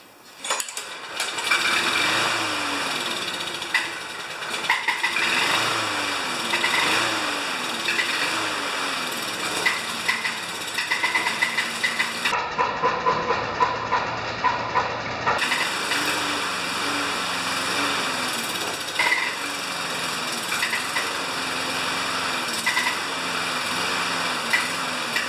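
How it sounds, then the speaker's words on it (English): A Murray mower's Briggs engine runs with a heavy knocking rattle, a steady close mechanical drone with rapid pulsing that drops out briefly midway and then resumes, with no talk. "the engine has such a heavy death rattle, it doesn't sound like it should"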